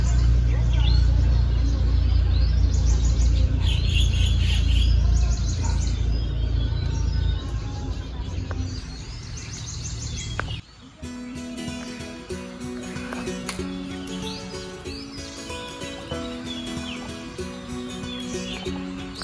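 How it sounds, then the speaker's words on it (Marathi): Birds chirp and sing at a rural Konkan farmhouse during the rainy season, with bright repeated calls heard over steady outdoor noise and a low rumble in the first half. "पक्ष्यांचा आवाज आहे का मस्त वाटतं"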